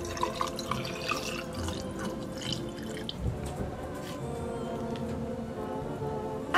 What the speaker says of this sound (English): Pour in your drink.